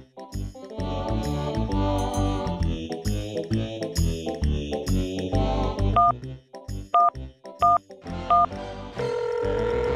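Phone dialing in a Spanish-language animated children's toy show, electronic keypad tones sounding as several short evenly spaced beeps near the end of a loud stretch of bright music, with no talk.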